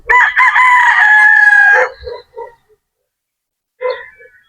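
A white straight-comb rooster at a game farm in Batangas gives one loud, close crow lasting nearly two seconds, followed by a few short clucks and another brief call after a pause.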